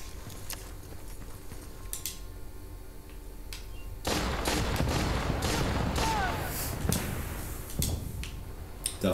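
Gunfire in the video game Battlefield: Bad Company, a sustained burst of loud shots and crackling fusillade starting midway and continuing with bursts, with faint speech-like sounds in the background.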